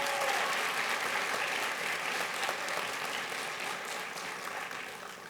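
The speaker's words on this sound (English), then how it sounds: "would you also please give a round of applause to the greatest training staff in the state of Georgia" Sustained audience applause for a state training staff in Georgia, a dense, even wash of clapping from a large crowd that stays loud throughout and fades slightly near the end.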